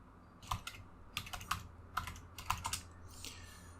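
Someone types a location search on a computer keyboard: quick bursts of crisp keystrokes in irregular clusters with short pauses, close and clear.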